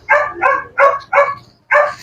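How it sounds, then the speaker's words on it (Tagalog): A dog barks five times in quick succession, loud and close, sharp yappy barks with short gaps, heard at a busy tiangge clothing market in Taytay with faint background hum. "Ang ingay na aso."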